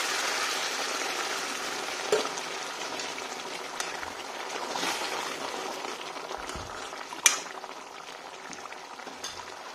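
Fried pork simmers in a pan just after hot water has been added, giving a steady, fairly quiet bubbling hiss with a few soft clinks and taps along the way.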